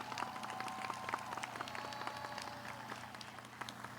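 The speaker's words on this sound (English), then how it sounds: "Please, let's give them a round of applause." An audience at a graduation ceremony applauds the graduates with dense, steady clapping that sounds faint and distant throughout.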